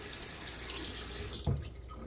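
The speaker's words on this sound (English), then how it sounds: "Gonna rinse the tub here, the sides, the threading" Tap water runs steadily while a shaving soap tub is rinsed around its sides and threading, with a brief louder splash near the end.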